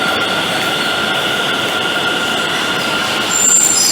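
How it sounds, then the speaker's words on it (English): A Delhi Metro train runs through an elevated station at Motibagh in a steady, loud roar of wheels on rails with a high metallic whine and faint squeal near the end, heard close and continuous. "The metro is coming from the Majlis Park, and this metro will be going to Punjabi Park line."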